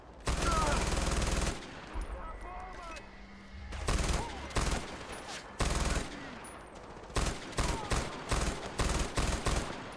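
Machine gun fire in Far Cry 4 hammers out in loud, rapid bursts, one long stream near the start and then a run of short volleys, with brief quiet gaps between them.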